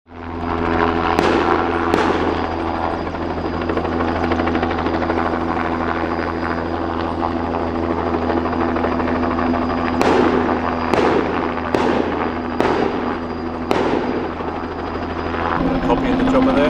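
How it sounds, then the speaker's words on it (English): A helicopter flies over rough hunting country near a gully, its steady rotor drone filling the whole stretch, loud and continuous, with several sharp cracking bursts near the end. "Copy in the chopper there."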